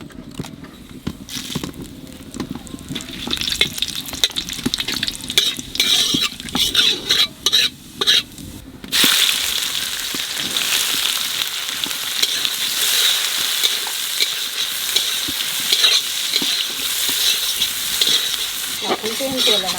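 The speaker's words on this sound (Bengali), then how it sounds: "তেলের মধ্যে দিয়ে দেবো জিরে আর তেজপাতা।" Cumin seeds and bay leaves hit hot oil for a village-style chicken curry: scraping and stirring clatter at first, then a loud, continuous sizzle that fills the rest of the stretch.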